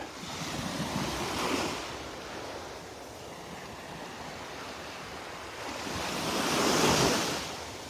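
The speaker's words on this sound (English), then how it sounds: "Little walk on the beach." Waves wash onto the beach at Delnor-Wiggins, a steady surf roar that swells around two breakers, with wind buffeting the microphone throughout.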